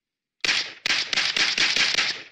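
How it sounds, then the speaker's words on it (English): Dragunov rifle in Ghost Recon firing seven rounds in rapid succession, a dense burst of sharp, loud cracks that follows a moment of silence and runs under two seconds. "in this clip, I fired 7 rounds from a Dragunov in less than 2 seconds"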